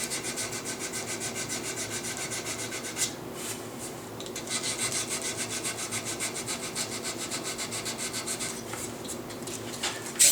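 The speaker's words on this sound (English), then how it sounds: "you can also turn the half round file around, use it to get in there and clean up corners" Half-round file rasping wood around a gun lock mortise: a close, steady run of rhythmic back-and-forth filing strokes with gritty texture, pausing briefly twice before resuming, with no talk.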